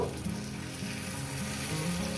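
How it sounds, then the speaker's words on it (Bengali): Raw rohu fish frying in a pan over a medium flame gives a dense, continuous close-up sizzle of oil, steady and even throughout, with no voices. "মাছটা যেহেতু আমি ভাজা ভাজা করছি"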